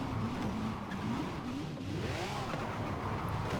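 Engine of a high-class drift car in a racing video game, heard from the cockpit view. The revs climb and fall in smooth sweeping waves, steady and continuous, with no talking.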